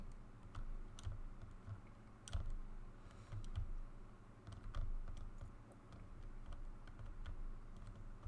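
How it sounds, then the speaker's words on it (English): Typing on a computer keyboard during a gaming livestream, a quiet, irregular run of close key clicks and taps, some louder strokes standing out, with no talk over it. "He's typing, folks. He's typing."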